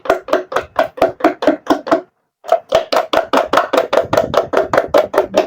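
Coarse sugar mixture stirred briskly in a bowl, making a steady run of rhythmic scraping strokes up close. There is a short pause, then the strokes pick up again with no talking.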